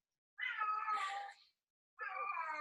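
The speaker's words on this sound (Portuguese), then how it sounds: "tem um gato aqui que não para de miar e chorar na minha orelha." Cat meowing close by, two long drawn-out plaintive cries separated by a short pause, loud and clear against silence.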